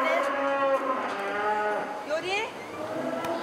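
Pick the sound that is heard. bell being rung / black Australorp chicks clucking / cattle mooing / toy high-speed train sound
cattle mooing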